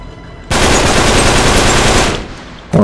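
A loud, sustained burst of automatic gunfire in Uncharted 3: Drake's Deception Remastered, a dense rapid rattle lasting about a second and a half before cutting off, then a short fresh burst at the end.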